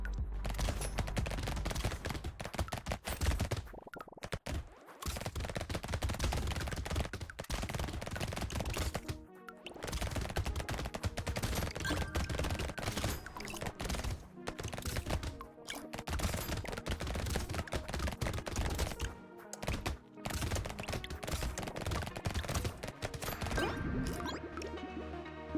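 SMG and shredder weapons firing in Brotato, a dense, rapid stream of overlapping shots and impacts that runs almost without pause, with only a few brief gaps in the barrage.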